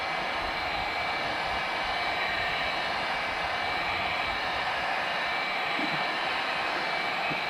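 A heat gun blows a steady, loud, even hiss while warming the glue under an emblem on a motorcycle fuel tank, continuous and close throughout.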